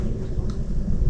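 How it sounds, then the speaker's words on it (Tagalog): A low rumble of loud thunder rolls through without a break, heavy and continuous over the short stretch. "Ang lakas ng kulog."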